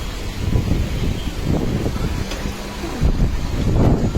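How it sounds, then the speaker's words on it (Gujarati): Strong wind gusts batter the microphone outdoors as trees sway hard before a coming storm, a loud rumbling buffet rising and falling in uneven surges. "બહુ પવન છે."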